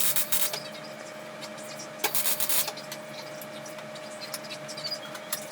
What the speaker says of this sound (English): And here's the accelerator pedal getting welded on.